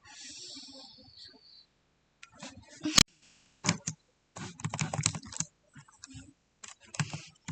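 Bursts of clicks and taps on a computer keyboard, close by and uneven in rhythm, with pauses between the flurries and one sharp louder click.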